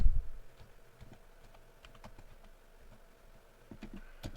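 Quick, light clicks of typing on a computer keyboard come in short irregular bursts, close and fairly quiet, with no voices over them.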